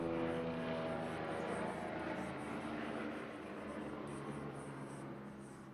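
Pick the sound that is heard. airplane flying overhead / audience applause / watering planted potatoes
airplane flying overhead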